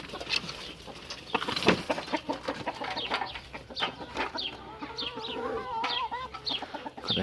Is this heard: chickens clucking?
yes